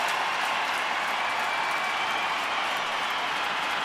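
A packed baseball stadium crowd roars in a steady, dense wash of cheering and noise during a Rangers at Astros game in the ninth inning, loud and continuous with no single voice standing out.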